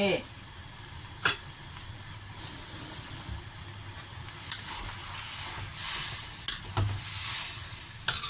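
Chinese kale being stir-fried with canned fish and soy sauce in a pan, a steady close sizzle and hiss with occasional clacks of a utensil against the pan throughout.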